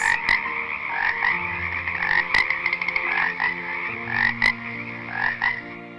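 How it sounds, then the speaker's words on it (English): A dense chorus of frogs croaks steadily in overlapping rasping calls, loud and continuous throughout, used as a sound effect for a plague of frogs, with no talking. "So God sent the second plague, a plague of frogs."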